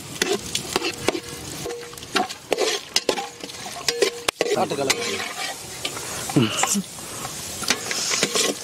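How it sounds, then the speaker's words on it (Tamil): Cashews and raisins roasting in hot ghee, a lively sizzle broken by repeated close scrapes and knocks of a stirring ladle against the pan, with people talking intermittently over it. "முந்திரி பொன்னிறமா வறுத்து எடுத்துக்கலாம்."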